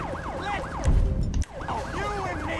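A police car siren in Grand Theft Auto V wails in a rapid rising-and-falling pattern, interrupted briefly by a loud low engine rumble before the siren resumes at moderate distance.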